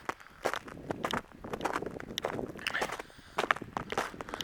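Footsteps crunch and scrape over an icy driveway, a steady walking rhythm of close, crisp steps with no talking.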